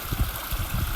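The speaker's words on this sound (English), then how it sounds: "Got a stream coming down through here. It turns into, just below me here, a waterfall" Burbling mountain stream running down toward a waterfall on a trail near Idyllwild, a close, steady gurgle and rush with soft low water knocks.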